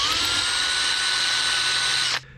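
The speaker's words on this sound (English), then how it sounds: "I want to drill it this way and tap it for a set screw" A power drill bores into a small metal part for a set screw, a loud steady high whine that holds evenly for about two seconds before cutting off abruptly, leaving a quiet hum.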